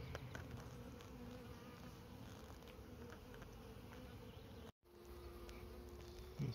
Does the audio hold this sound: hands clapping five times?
no